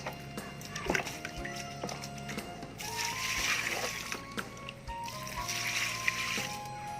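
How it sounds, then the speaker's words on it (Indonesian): Rice water is poured into a plastic bucket, making a sustained splashing, gurgling stream in two surges, along with some clunks and handling knocks. "Kemudian kita masukkan air beras."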